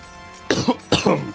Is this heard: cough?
yes